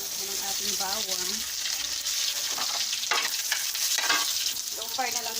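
Garlic sizzles and fries steadily in a hot pan on a home stove, a bright continuous crackle with occasional stirring, while someone speaks over it intermittently.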